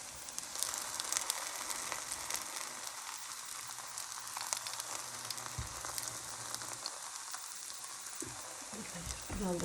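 Boxty potato pancake frying in really hot oil on a pan, a steady dense sizzle and crackle running throughout, close and fairly loud, with no talk over it.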